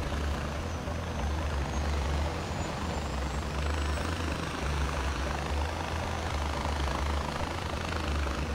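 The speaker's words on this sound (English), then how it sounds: "Helicopter." A helicopter in the video game Far Cry 4: a steady, fairly quiet rotor and engine drone with a rhythmic low thudding pulse, running continuously without talk.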